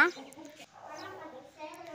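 A broody hen sitting on eggs clucks in short, throaty bursts close by, with a person talking over and between the clucks.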